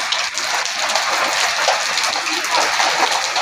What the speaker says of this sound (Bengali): কঠিন বৃষ্টি হইতেছে আমাদের নিমতলায়।